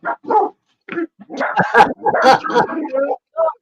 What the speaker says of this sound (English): What are you barking at, you two?